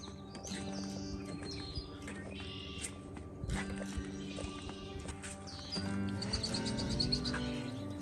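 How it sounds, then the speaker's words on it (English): Birds singing at White Lake Community Park, scattered high chirps and calls over a busy bed of close rustling, clattering and knocking sounds. "Wow, listen to all the birds."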